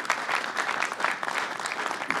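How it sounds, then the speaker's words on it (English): An audience claps steadily for a couple of seconds, a dense even patter of many hands at moderate distance. "Let's give Mayor Spitzer a round of applause."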